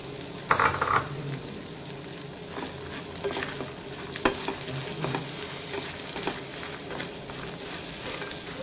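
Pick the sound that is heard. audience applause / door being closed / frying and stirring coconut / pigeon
frying and stirring coconut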